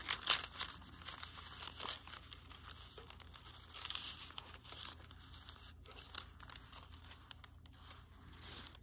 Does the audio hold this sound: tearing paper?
yes